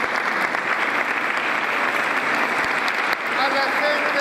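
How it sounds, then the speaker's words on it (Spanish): Crowd applause at a patron saint festival in Coronel Moldes, dense, sustained clapping from many people throughout, loud and continuous with a slight dip near the end. "Un aplauso grande."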